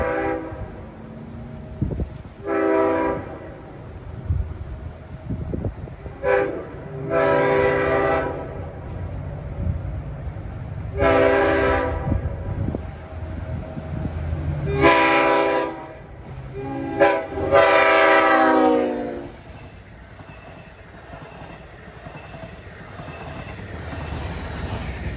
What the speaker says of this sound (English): That horn sounded real good